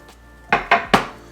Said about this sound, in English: So we're gonna dump the potatoes in the bottom.